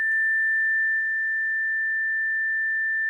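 A planar tweeter foil driven at a single test frequency rings as a steady, pure sine-like tone, constant and unwavering throughout, with nothing else audible.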